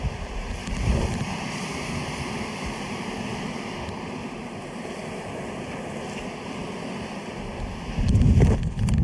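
Waves breaking on a wild beach at Palanga, Lithuania, a steady roar of surf mixed with gusting wind on the microphone, swelling louder near the end, with no voices.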